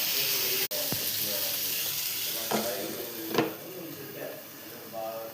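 Egg biryani masala simmering and frying in a pan, with a soft steady sizzle broken by a few clinks and stirs of a spoon, close by and fairly quiet.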